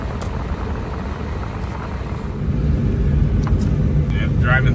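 An off-road vehicle drives a California dirt trail through a burned area, a loud, steady engine rumble and road noise that swells midway, with people talking over it.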